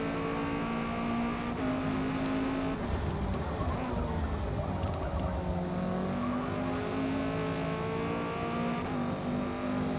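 Engines of S-Class race cars in Forza Motorsport drone steadily with rising and falling revs, a dense multiclass pack running close together in a continuous roar.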